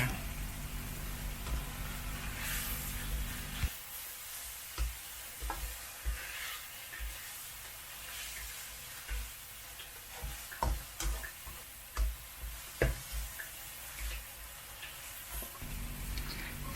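Dill and minced pork are stir-fried in a hot pan, giving a steady sizzle with repeated scraping and clinking of the spatula at an irregular rhythm, close and fairly loud.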